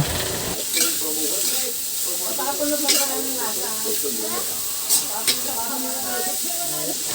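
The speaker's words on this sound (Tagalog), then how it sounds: "at haluin lang ng mabuti" Green bean adobo being stirred in a frying pan with ground pepper added, a steady sizzle and hiss under repeated scraping strokes of the spoon, close and continuous with occasional louder clinks.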